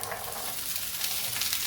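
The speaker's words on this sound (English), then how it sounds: "You'll hear a little sizzle. That's for the water from the green beans where they've been rinsed and cleaned." Rinsed green beans hit hot garlic oil in a pan, giving a steady, bright sizzle and frying hiss that holds evenly throughout, close and fairly loud with no talking.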